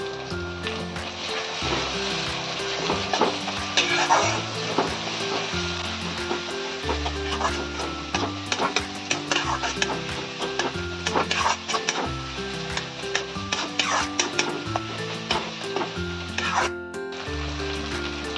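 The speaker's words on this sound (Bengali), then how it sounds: "এই সব মশলা দিয়ে ভালো করে আমি কষিয়ে নিচ্ছি।" Ginger, garlic and mustard paste frying in a pan for rui kalia, with other spices added, a continuous close sizzle broken by scraping and stirring strokes throughout.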